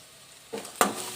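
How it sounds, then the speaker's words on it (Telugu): Curry leaves drop into hot oil with fried onion and garlic paste for a Telangana-style rice tempering, giving two quick, sharp crackling bursts that settle into a soft sizzle. "ఇప్పుడు కరివేపాకు వేసుకున్నాం"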